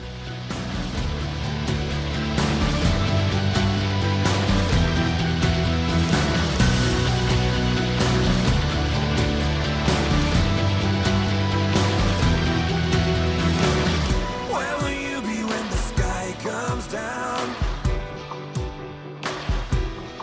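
A rock song plays loudly and steadily with a driving beat and distorted guitars, thinning out toward the end.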